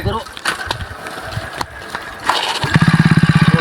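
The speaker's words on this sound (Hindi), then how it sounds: "ओ भाई गाइस मोटरसाइकिल हमारी स्टार्ट हो गई है फाइनली।" A push-started motorcycle catches and fires up, settling into a fast, steady popping idle after a stretch of scuffling and clatter from pushing; voices talk over the start.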